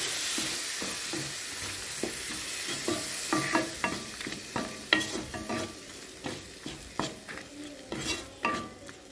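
Tomato paste being stirred and sautéed with shallots in a frying pan, a spoon scraping and clinking against the pan in a steady irregular rhythm over a continuous close sizzle, with no talking.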